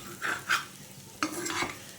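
Chicken curry frying in a pan and being stirred, with scraping stirs near 0.3, 0.5 and 1.2 seconds over a steady low sizzle, close and moderately loud with no talking.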